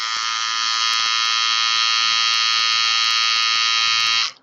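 A small electric buzzer such as hair clippers running with a loud, continuous high-pitched buzz that holds steady for about four seconds and then cuts off abruptly.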